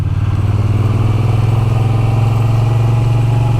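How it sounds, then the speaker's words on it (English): A Moto Guzzi V7 Sport motorcycle engine runs loud and close with a steady, throbbing low rumble and a rapid even pulse, holding constant without revving up or down. "It's a very torquey engine, is this."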